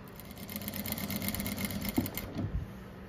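A sewing machine stitching around a small fabric square, a steady close mechanical whir with a rapid needle rhythm running continuously, joined by a couple of brief soft knocks near the end.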